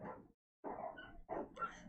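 Dogs barking outside in three short, separated bursts, somewhat muffled as if heard through a wall, with a brief whimpering yip at the end.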